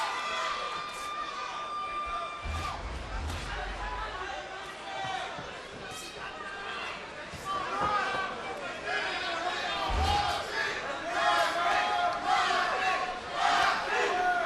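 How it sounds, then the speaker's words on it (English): Boxing crowd at a Rocky Juarez versus Robinson Castellanos fight cheers loudly and continuously for Juarez, a dense roar of voices with rising swells and a few low thumps, an announcer talking over it. "Crowd again cheering Rocky."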